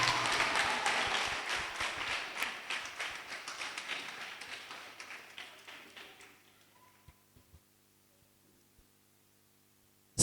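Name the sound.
classroom applause for a girl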